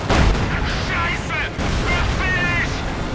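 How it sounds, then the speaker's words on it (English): Bombing strike in the strategy video game Company of Heroes 2, heard as a continuous rumble of heavy explosions and gunfire under a commentator's steady talk for the whole stretch. "And what is this? A bombing strike?"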